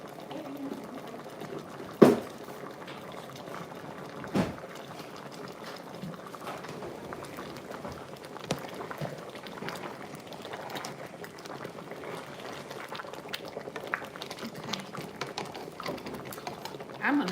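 Vegetable soup seasoned with lemon pepper boils in a pot, a soft continuous bubbling and gurgling with a few sharp clicks, moderately near.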